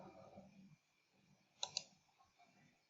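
Two quick computer mouse clicks, close together and sharp but faint, as a Google Classroom assignment is returned to students, with a low hum and faint background murmur around them.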